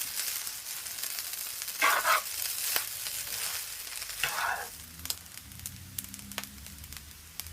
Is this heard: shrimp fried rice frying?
yes